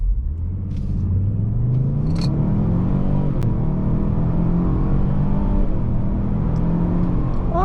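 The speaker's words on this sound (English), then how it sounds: "Great sounding engine when it gets up there" A 2023 Lincoln Navigator Reserve engine pulling hard at full throttle from a standstill, a loud, rising rumble that steps up through gear changes, heard from inside the cabin.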